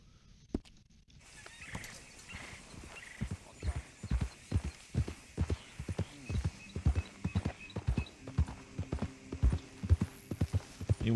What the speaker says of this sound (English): check out this horse I got